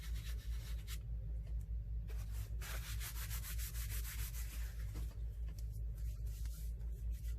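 A mixed media artwork surface is rubbed smooth by hand, giving repeated soft scraping strokes over a steady low rumble, close, with no talking.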